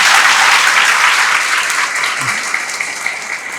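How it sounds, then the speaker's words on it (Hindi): Applause at an Indian gathering honoring a young teacher's selection, a loud burst of many hands clapping that gradually thins and softens toward the end, with no talking. "इसके लिए एक ताली और बजा दीजिएगा"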